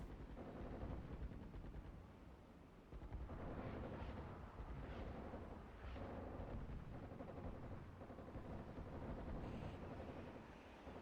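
Mortar fire in the wargame Armored Brigade II, heard as faint, muffled booms rolling over a steady, windy battlefield rumble, with a cluster of thuds in the middle stretch.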